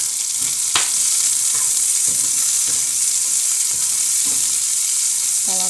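Onion sizzling in a hot pan for stuffed couscous with calabresa sausage, a steady loud frying hiss broken by occasional stirring scrapes and clicks.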